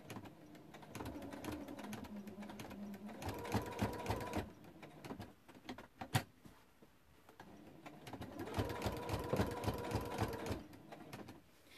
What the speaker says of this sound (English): So I'm stitching around the very edge of my circle